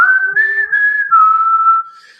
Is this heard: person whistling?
yes